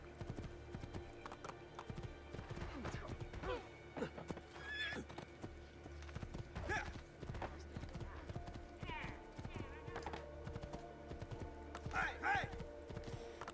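Horse hooves clip-clop steadily through the streets of the video game Assassin's Creed II, with horse whinnies and background crowd chatter mixed in, and the rider talks throughout.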